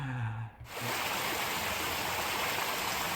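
Steady broadband rush of a waterfall, continuous and fairly loud, with no talk over it; a short voiced sound and brief dip sit at the very start before the roar settles in.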